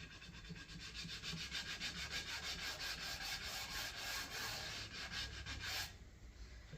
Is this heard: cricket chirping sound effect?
no